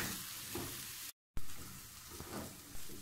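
Spices for a potato samosa filling fry and get stirred in a pan, giving a close, steady sizzle with scraping stirs, broken by one brief moment of silence.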